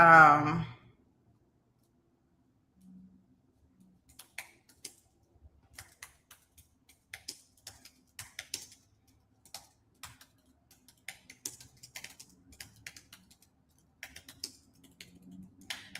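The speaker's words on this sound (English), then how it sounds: "I'm up here typing up this thing" Scattered keystrokes on a computer keyboard at a murder trial, sparse clicks in short bursts with pauses, faint and close, after a brief voice at the start.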